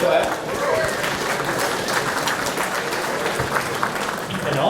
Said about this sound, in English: And that big clap.